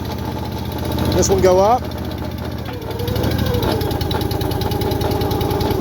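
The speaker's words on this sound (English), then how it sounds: "I'm running her low throttle. I'm not giving her full throttle." An engine on a farm machine bought at auction idles at low throttle with a steady, chugging mid-pitched rumble, close and loud throughout, while a person speaks briefly over it and a short rising whine cuts in near the start.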